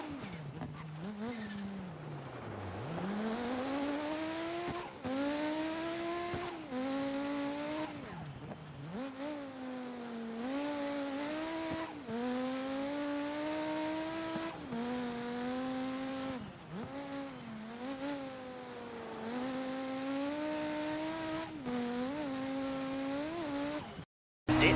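A stock Audi Quattro rally car in a racing video game revs hard through repeated gear shifts, engine pitch climbing and dropping in a steady rhythm with brief lifts and tire scrabble, loud and close throughout.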